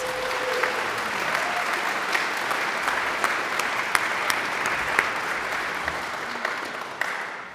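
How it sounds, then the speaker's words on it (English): Sustained audience applause at a university faculty excellence awards celebration for Teaching Award winners, a dense steady wash of many hands clapping continuously throughout, with a few sharper individual claps standing out. "Let's give our Teaching Award winners a great round of applause."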